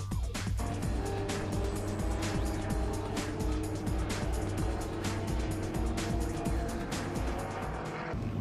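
Touring race cars idle and rev together on the grid for the start of a United States Touring Car Championship race, a steady loud engine drone with layered revs and brief tire noise throughout, with no talk.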